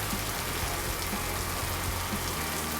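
Steady summer rain falls on a Florida golf course, a dense continuous hiss of drops pattering on grass and surfaces with no talk.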